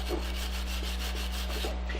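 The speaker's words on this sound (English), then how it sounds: "I use a wire brush in most situations" Wire brush scrubbing Ford disc brake parts, rhythmic rasping strokes repeating steadily up close over a constant low hum.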